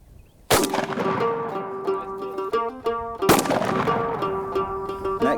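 A 12-gauge shotgun firing a 3.5-inch, 2 1/4-ounce TSS turkey load, two sharp, loud blasts a few seconds apart, each followed by a ringing, tonal echo that lingers.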